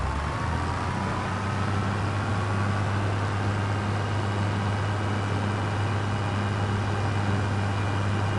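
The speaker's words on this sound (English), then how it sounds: "And then repark the tractor." Tractor engine in Farming Simulator 25 runs at a steady low drone with a strong low hum throughout, loud and continuous while the tractor is reparked.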